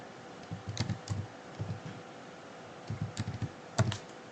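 Computer keyboard typing heard as clusters of light, quick key clicks in short bursts with brief pauses, close and fairly quiet over a low steady background hum.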